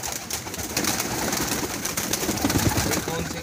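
Pigeons coo in low soft throaty calls close by amid fluttering and shuffling, with a voice talking over them.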